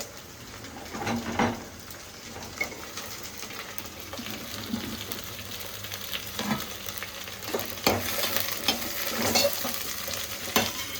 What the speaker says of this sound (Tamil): வெண்டைக்காயும் எண்ணெயிலே வாட்டுக்குது